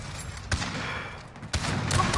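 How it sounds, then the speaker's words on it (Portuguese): Gunfire in a multiplayer sniper video game on a 2v2 map, with two sharp shot bursts standing out over a steady noisy game background. "eu já tô dando tiro pra tudo que é lado aqui"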